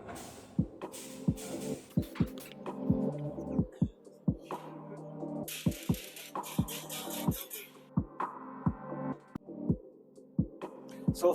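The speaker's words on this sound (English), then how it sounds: "We have 6 pressing machines working at the same time, which give us 60 tons of products every day." Refractory brick pressing machines running in a factory, several working at once, giving a steady hum with regular heavy thumping strokes roughly every half second, plus intermittent hissing bursts, loud and close.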